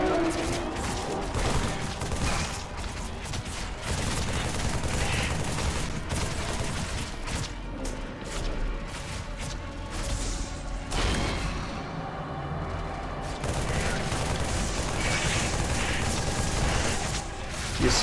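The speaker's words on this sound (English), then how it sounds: "The assault rifle really doesn't have the accuracy I need for this." Assault rifle fire in Halo 3 rattles in dense, continuous bursts mixed with explosions and mechanical game noise, loud and busy throughout, with a voice heard talking over the gunfire at times.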